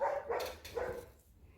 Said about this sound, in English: I walk in the shop, they start barking.